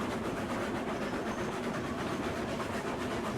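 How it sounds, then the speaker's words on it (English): A heavy iron-ore freight train in the Railroads Online video game rolls along in a steady dense rumble with faint clattering, continuous and close. "That is a heavy, nasty, gnarly train right there"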